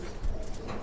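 Baby pigeons and older flying pigeons kept in a loft give a soft, low cooing that murmurs steadily through a brief moment, close by and fairly quiet.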